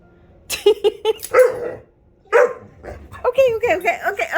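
A puppy gives a string of sharp, high yips and barks close by, in quick bursts with short pauses, mixed with a person talking to it.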